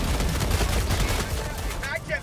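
Rapid automatic gunfire from the shooter game Helldivers 2 crackles in a dense, continuous burst during a frantic firefight, with a player's voice briefly over the shooting.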